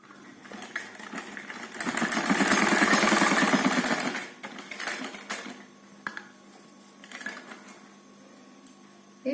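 A sewing machine runs a thick decorative stitch along a kurti neckline, a loud steady mechanical burst in the first seconds that then drops to quieter intermittent clicks and handling noises.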